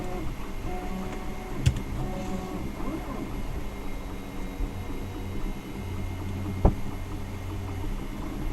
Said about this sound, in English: while the other piece is 3D printing